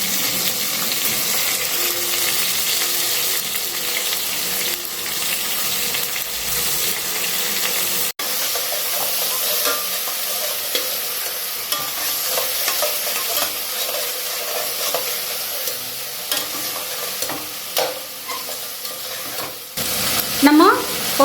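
Mint leaves fry with tomato and onion in a pot for mutton biryani, a loud continuous sizzle with repeated stirring scrapes of a ladle, a sharp knock near the middle and a busier clatter toward the end.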